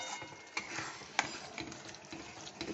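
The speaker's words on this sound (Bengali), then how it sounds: "এবার আমি এই পালক শাক বাটাটা দিয়ে দিচ্ছি। এটা দিয়ে খুব ভালো করে কষে নেব।" Spinach paste added to hot oil and stirred for palak paneer, producing a faint, hissing sizzle with a few sharp spatula knocks against the pan.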